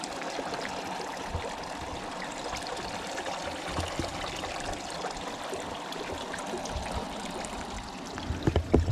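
A stream runs steadily nearby on a hiking trail in Epirus, a constant wash of flowing, trickling water with a few louder splashes near the end.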